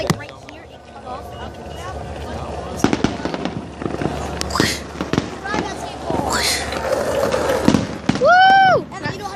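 Fireworks burst and pop through a Fourth of July night outdoors, with several sharp cracks and booms, followed by a rising whistling rocket near the end. People talk and cheer throughout.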